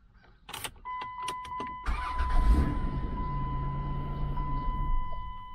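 A 2005 Chrysler van with a key problem: clicks and a chime, then the engine cranks and catches, idles steadily for about three seconds while a warning tone rings, and stays running to the end.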